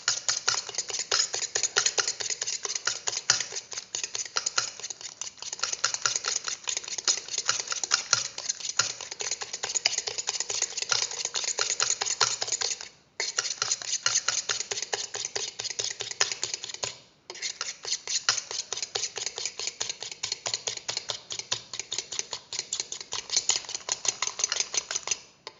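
Egg white whisked by hand in a bowl until frothy for a no-oven chocolate cake, a fast continuous ticking patter of the whisk against the bowl, close and steady, with two brief pauses.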